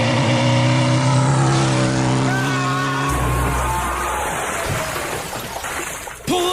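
Motorcycle engine running with a steady mid-pitched drone, then sputtering and dropping off as it fails, close by, with voices talking over it.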